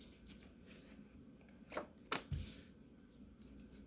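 Tarot cards are shuffled and drawn during a reading, giving soft papery riffling and a few crisp slaps and flicks close by, heard alone without speech.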